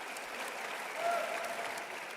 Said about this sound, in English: have everybody else give the staff at Twin Cities Habitat a round of applause